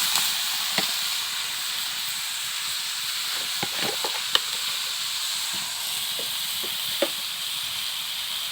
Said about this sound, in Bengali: এই যে এখন লাউগুলো দিয়ে দিব।